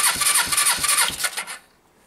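A Suzuki GS500 motorcycle engine cranks over with a rapid, rhythmic starter churn for about a second and a half, close and fairly loud, then stops without firing.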